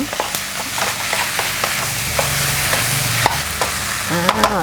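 Green curry chicken fried rice with basil is stir-fried in a pan, a loud close sizzle under repeated scraping and clanking of a spatula against the metal, with a cluster of quick knocks near the end and no talking.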